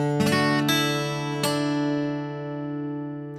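An acoustic-toned guitar plays a short run of picked single notes on separate strings, a few distinct plucks that ring out and slowly decay, heard close and alone.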